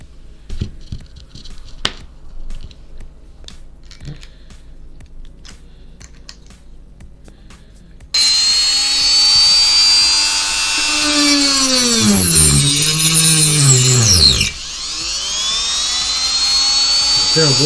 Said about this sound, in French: je vais essayer de découper un morceau de bois